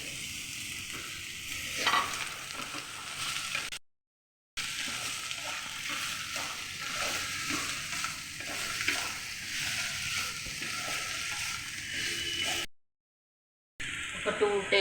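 Cut banana pieces frying with onions in a pan, a steady close sizzle broken by stirring and scraping sounds, with two brief silent gaps.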